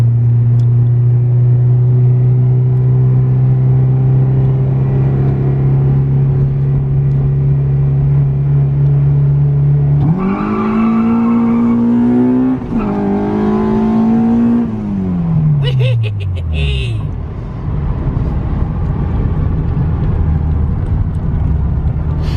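A Honda Civic EK with a swapped K24 engine idles steadily, then revs up hard twice, holding high before the revs drop back to a rough idle; loud, close and alone.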